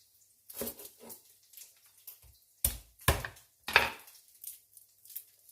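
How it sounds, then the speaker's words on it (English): Crisp knife chops through onions and garlic on a cutting board, a handful of uneven sharp strikes with short pauses between, close and clear, no talk. "The next thing to chop, that's going to be going into here in just a minute, is onions and garlic."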